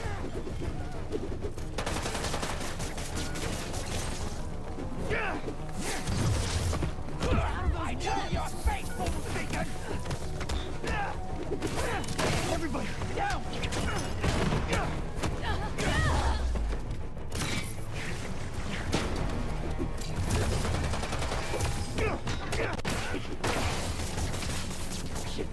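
Chaotic combat in Spider-Man 2 on PS5, with repeated thumping melee explosions and bursts of impacts layered over game music, while a player talks throughout.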